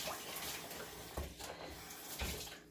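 Tap water runs over a tablespoon in a kitchen sink, a steady close splashing stream with a couple of sharper knocks of metal against the basin.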